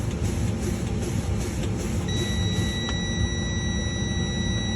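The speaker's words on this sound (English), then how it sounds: "my low air pressure warning light and buzzer come on" A truck's low air pressure warning buzzer sounds as a steady high electronic tone during a cab brake test, coming on partway through and holding continuously over a loud idling engine rumble.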